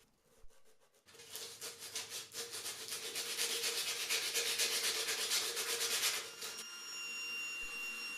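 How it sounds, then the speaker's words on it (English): A wire brush attachment on a power tool scours the juice grooves of an old wooden cutting board, a loud continuous harsh scrubbing that starts abruptly and runs about five seconds before stopping, leaving a faint tonal hum. "I had some wire brush attachments that I'd used to clean up live edge projects before, and it turns out these were perfect for cleaning out the grooves"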